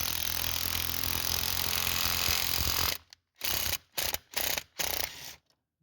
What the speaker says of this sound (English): I don't think you're supposed to use an impact for this, but I do.